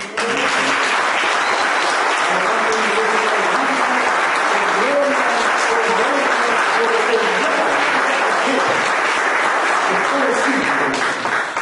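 A church congregation applauds loudly and steadily during a Spanish-language worship service, a dense wash of clapping holding at full volume throughout with faint voices mixed in.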